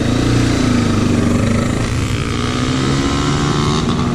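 A motorcycle with a broken clutch cable runs loud and close, a steady rumbling drone with slight rises in revs.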